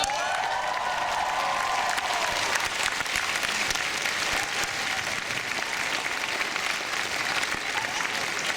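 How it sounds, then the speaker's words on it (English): A convention panel audience at Fan Expo 2012 breaks into loud, sustained applause and cheering that fills the room steadily throughout. "Let's cheer her on as she comes up"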